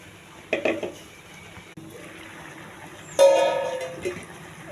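A spoon stirs tomato, coconut and peanut paste into a brinjal and kabuli chana curry in a pot, with two distinct scraping, clattering bursts over a quiet background.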